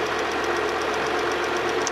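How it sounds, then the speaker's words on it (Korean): A 2.7-litre Mu engine's steady idle carries a rapid, even ticking from the purge valve, a continuous mechanical patter close by without any voices. "딱딱딱딱 소리 나는 건 이제 퍼지 밸브 소리이기 때문에"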